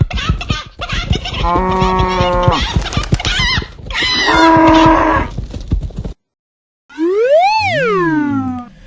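A cow moos loudly and close up in a series of drawn-out, throaty calls, then a short silence, followed by one final long moo that rises and falls in pitch.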